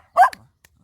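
A dog gives one short, sharp bark close by, followed by a faint second yip, with quiet around it.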